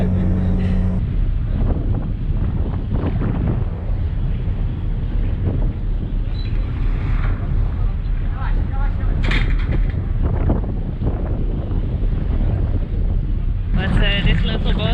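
A ferry arriving in harbour out of Lebanon, guided by a small pilot boat, with heavy wind rumbling across the microphone throughout, loud and continuous engine and water noise underneath and faint voices.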